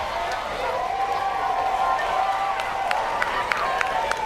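A vocal, emotional crowd cheers at a 2019 Little League World Series elimination game between Mexico and Venezuela after a line drive base hit, a broad, distant roar with scattered claps and sharp pops over it.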